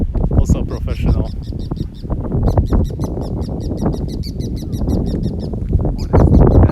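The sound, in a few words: bird calling outdoors in Tokyo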